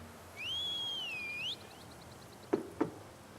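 A single whistle is blown in The Elder Scrolls Online video game, a rising and falling tone lasting about a second, followed by two sharp knocks in a quiet setting.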